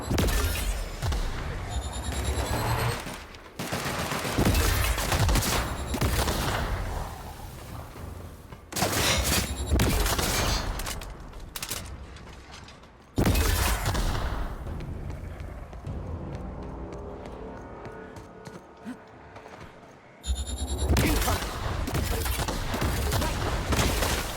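Bursts of gunfire crack and rattle in heavy volleys during a firefight in the video game The Outer Worlds, with loud, dense shooting broken by brief lulls and overlapping voices.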